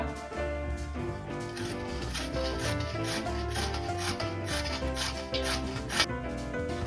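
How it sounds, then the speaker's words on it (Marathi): Potatoes are grated by hand for a fasting-day potato chivda, giving rapid, repeated rasping strokes at a steady rhythm over music. "आता सर्व बटाटे असेच किसून घ्यायचे आहे आपल्याला"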